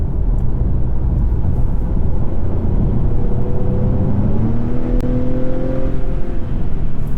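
A 2021 Acura TLX turbo engine accelerating from inside the cabin, a steady low drone under road noise with a rising tone emerging midway as revs build, no talking.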